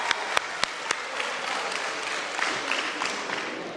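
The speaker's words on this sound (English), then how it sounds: "Give them a round of applause." Audience applause for scholarship-winning students at a college signing day, a steady wash of clapping with a few sharp, distinct claps standing out near the start, moderately loud throughout.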